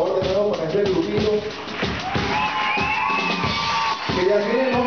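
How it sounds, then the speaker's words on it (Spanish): A crowd at a folk music gathering cheers and whoops for a young ensemble, with loud overlapping shouts and voices close by and steady bursts of crowd noise throughout. "Un aplauso por favor de nuevo para este grupito"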